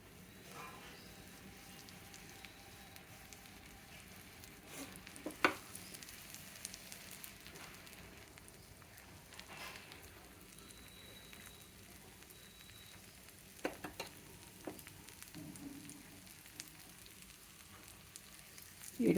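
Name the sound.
frying in oil, sizzling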